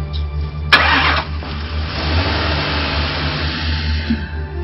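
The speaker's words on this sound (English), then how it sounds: "This car is not starting." A car engine cranking with a sharp starter burst, then a rough, uneven churning that does not catch into a clean run, fairly loud and close with no talk.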